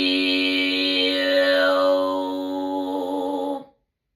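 A human voice imitates a cat's meow with a throat-singing effect: one long, buzzy, harmonic-rich drawn-out tone that slides downward in pitch, heard alone and close, then stops abruptly.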